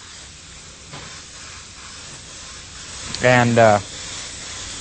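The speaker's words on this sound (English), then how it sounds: "So it's a pretty easy color to spray when you're doing it this way. And you can just take your time and let it go. The air is always on." A steady, even hiss of air and paint from an airbrush spraying custom automotive graphics runs throughout, with someone speaking briefly over it near the middle.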